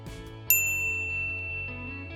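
A single bright notification bell ding rings out sharply and lingers as a sustained tone over a steady low musical background.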